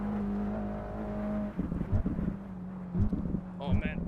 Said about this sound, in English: the Mercedes V8 is just a different sort of sound that you need to enjoy